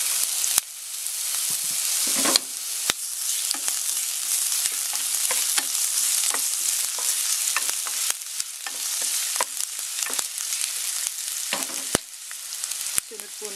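Garlic and ginger sauté in hot cooking oil for a clam soup, a steady loud sizzle running throughout with occasional stirring scrapes and crackles, with no voices.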